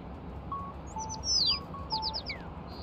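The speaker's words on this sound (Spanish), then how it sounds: "¿El pájaro?" Small bird chirps in the video game Little Kitty, Big City: a few quick, high, bright tweets and short trills over a quiet background, moderately faint.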